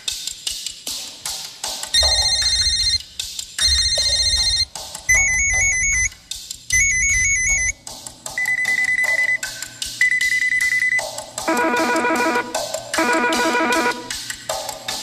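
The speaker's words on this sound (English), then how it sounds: "Check out these 4 phones. Pay attention to which phone has which ringtone" A series of different phone ringtones play one after another: chiming melodic tones, then bright trilling beeps and a buzzy warbling ring, loud and clear with short pauses between.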